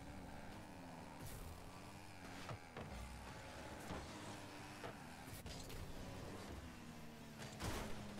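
In an online Rocket League esports match, car engines produce a wavering, whiny drone that rises and falls, broken by sharp bursts and clanks from the game, with no one talking.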